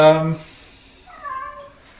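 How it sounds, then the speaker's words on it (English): A cat meows once, close and clear, in a short harmonic cry at the start, followed by a softer, higher second call in a quiet room during work on notching a corner for a handwash toilet. "there's that cat. I hate the cat."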